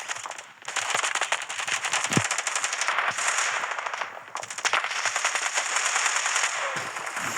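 Rapid gunfire in the mobile shooter Standoff 2: continuous bursts of automatic shots crackle loudly throughout, with brief pauses and sharp individual reports mixed in.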